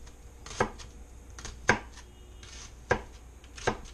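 Sharp kitchen knife chopping asparagus into small pieces on a cutting board, four distinct chops spaced about a second apart, close and fairly quiet, with no talking.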